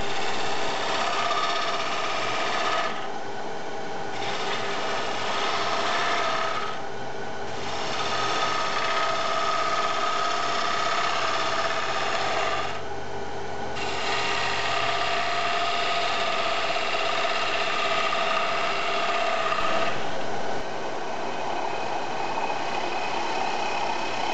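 A lathe trues a turned fixture knob, running with a steady, loud whirring drone and cutting noise that briefly thins out a few times before resuming, with no speech.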